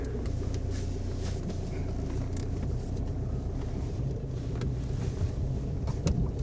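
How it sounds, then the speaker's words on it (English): A Volkswagen Golf drives up a rough slope, its engine a low steady rumble under wind buffeting and the crunch of tyres, fairly close and continuous throughout. "I'm gonna drive the Golf back up."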